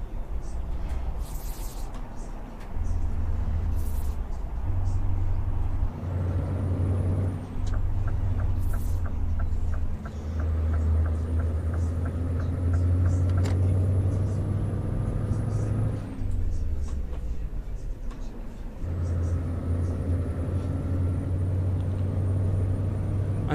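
A vehicle drives in the game Le Petit Limousin: a steady low engine drone runs throughout with brief dips and shifts, faint high whines and clicks over it, and no voices.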